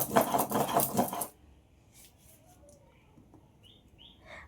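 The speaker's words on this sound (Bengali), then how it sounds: "আমি দেখো আজকেও কিন্তু সিন্নোড়াতে সমস্ত মশলাগুলোকে বেটে নিচ্ছি" Spices are ground by hand on a stone shil-nora slab, heard as a short burst of rough, rhythmic scraping strokes up close, followed by near quiet with faint small background sounds.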